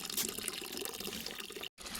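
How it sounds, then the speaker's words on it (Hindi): Water runs from the tap of a damaged hamam water heater in a hill home, a steady close splashing stream that cuts off abruptly near the end. "आनिया, आप भी खुद निकाल रहे हो अपने लिए पानी?"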